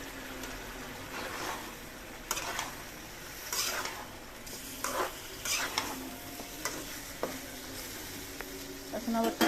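Desi magur fish and potatoes stir-fried in oil in a pan, with a steady sizzle and repeated scraping strokes of a spatula at close range, and a faint voice in places.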